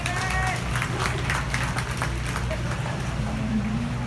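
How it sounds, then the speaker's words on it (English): Crowd at a youth beef market show applauds two exhibitors with a pair of Angus cattle, a steady wash of many hands clapping at moderate distance, low rumble and murmuring voices beneath. "Let's give them 2 exhibitors a round of applause"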